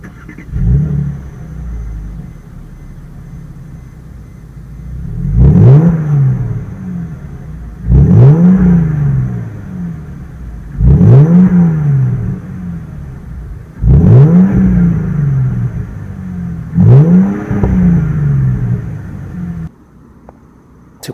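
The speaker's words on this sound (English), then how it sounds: "Let's go ahead and give it a few revs and let you guys listen to the exhaust sounds." A 2014 Mercedes E350 Cabriolet engine revs five times in a row, each rev rising sharply then falling back to idle, with a deep, loud exhaust rumble.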